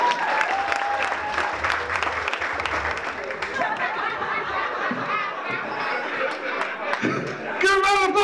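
A crowd claps and cheers loudly and continuously at a live music show, with chatter and a voice over the applause.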